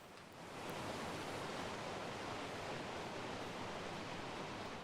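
A waterfall in the video game ARK Survival Evolved gives a constant broad rushing roar, steady and even, quiet in level, with no voices.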